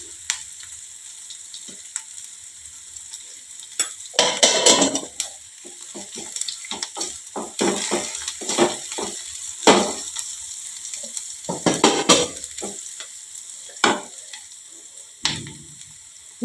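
Cumin seeds frying in hot oil in a pan, crackling and sizzling loudly up close while a utensil stirs them in bursts, with splashy, watery swishes mixed in and no talking.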